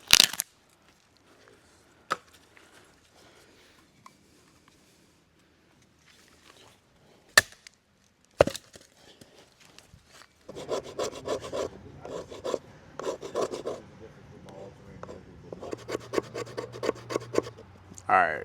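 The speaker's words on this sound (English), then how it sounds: "Alright, that's enough fat wood shavings." New hatchet chopping and shaving fatwood outdoors while camping in the rural Appalachian mountains of Pennsylvania: a few sharp isolated chops early, then repeated rasping scraping strokes in bursts, close and moderately loud.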